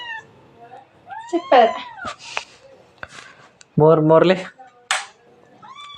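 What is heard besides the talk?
cat meowing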